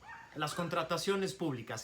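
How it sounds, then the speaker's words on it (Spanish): A dog barks and yips repeatedly in the background of an online Spanish-language lecture on public procurement, several short yelps overlapping a man's close speech. "Ustedes disculpen los ladridos"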